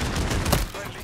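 Shotgun fire in a video game: a loud, punchy burst of blasts with a dense rumbling low end, heard over about a second with some overlapping talk.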